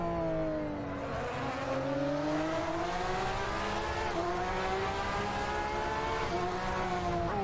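A racing engine in Assetto Corsa, a Kunos car with a sound mod, drones and revs continuously, its pitch climbing and dropping as the car shifts gears, steady and fairly loud with no voices.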